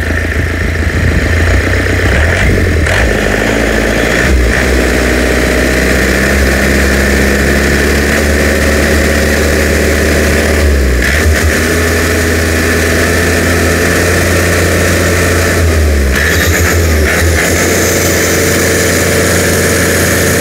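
A Yanmar 4T98 turbo diesel engine idles loud and close, a steady deep throbbing drone with constant vibration and a few brief dips, running alone without voices.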